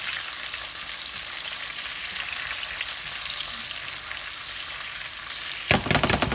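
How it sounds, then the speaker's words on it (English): Sliced tomato and thin-cut onion frying in a pan, giving a steady, close hiss of sizzling oil throughout, with a brief burst of louder crackling and stirring near the end. "now I'm going to cook the tomato with the onion."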